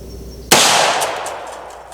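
A single sharp gunshot from a .300 Blackout rifle during a penetration test cracks loudly, then its echo decays over a second or so.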